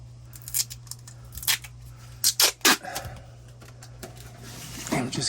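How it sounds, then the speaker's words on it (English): Tape pulled and stretched around a dryer vent duct in short ripping bursts, several quick tearing squeals clustered mid-way, close up over a low steady hum. "Let's tape it up."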